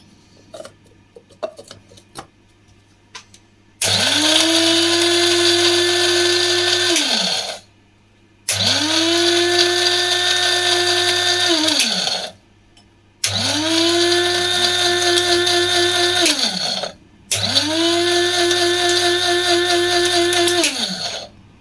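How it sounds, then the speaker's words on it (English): A coffee grinder powdering dried leeks whirs in four loud bursts of about four seconds each, with short silent gaps between them; the pitch drops as each burst winds down. "I'm popping them into my coffee grinder."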